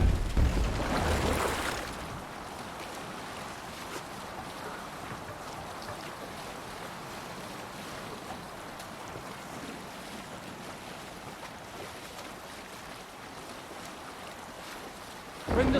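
A sailing ship at sea in Assassin's Creed Valhalla: a louder rush of wind and water at first, then a steady low wash of waves and wind noise throughout, with no talking.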